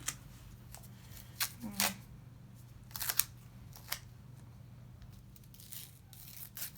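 Transparent tape being handled during IV insertion practice: scattered close crinkles, short ripping bursts and small clicks over a quiet room hum, with no talking.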